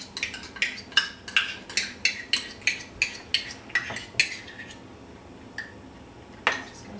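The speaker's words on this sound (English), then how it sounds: "Just gonna stir this up." A spoon clinks and scrapes against a pot while stirring corn syrup and vegan margarine for homemade vegan chocolate candy, a steady run of close, sharp taps that thins out toward the end.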